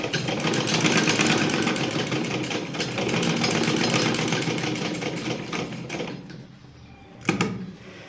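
A sewing machine runs steadily with a dense, rapid mechanical chatter for about six seconds while stitching a zip, then slows and stops with a brief clunk near the end.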